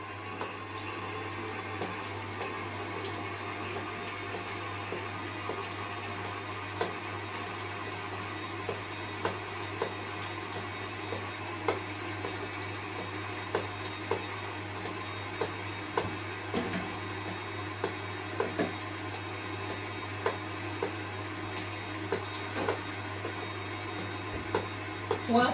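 An electric stand mixer creams buttercream at medium-high speed, a steady whirring motor drone with faint rhythmic ticks from the beater running continuously for the whole stretch, no talking over it.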